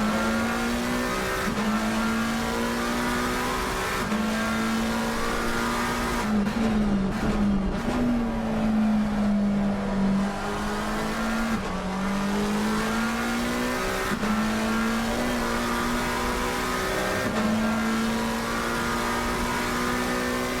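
A race car engine screams steadily through a push lap at the Hungaroring in a racing video game, seen from cockpit view, its pitch rising through each gear and dropping sharply at every upshift and braking zone, loud and continuous, with no talk.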